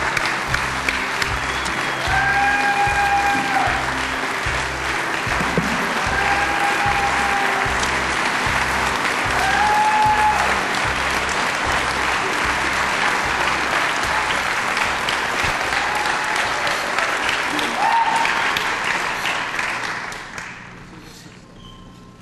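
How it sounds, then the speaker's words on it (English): Sustained audience applause greets a guest named David Miller onto the stage, a dense steady roar of many hands clapping that holds for about twenty seconds before fading out at the end. "Everybody, please give a huge round of applause for my good friend"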